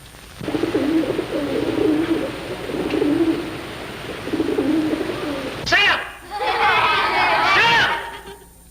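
Low pigeon cooing rolls on in repeated bursts, close and steady, with chattering voices and a short bird call joining near the end.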